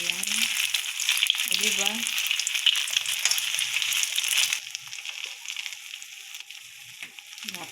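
Tikoy rice cake frying in hot oil, a loud, continuous close sizzle that softens somewhat toward the end, with someone speaking briefly over it.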